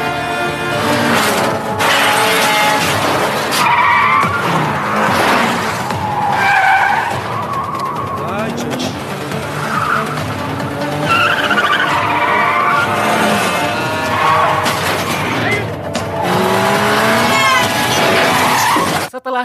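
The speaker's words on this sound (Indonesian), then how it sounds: "ia pun menancapkan gas mobilnya supaya bisa kabur" A car in a gangster chase floors it to escape, tires skidding and squealing loudly through most of the stretch, with engine roar and scraping screeches rising and falling in close, continuous bursts.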